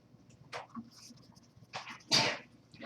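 A short, sharp sneeze bursts out in a quiet room amid soft breathy sounds and faint background noise.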